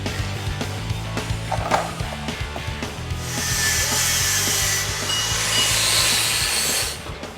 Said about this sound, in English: and cut up the long tube